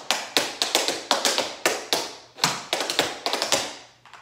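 Crisp tap shoes strike a hard floor in quick rhythmic bursts of clicks and shuffles, close and clear, with no voices.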